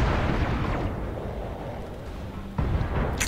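Mech weapons fire and a heavy explosion in the Battletech PC game at close range, a loud rumbling blast that sustains, then a fresh sharp burst near the end.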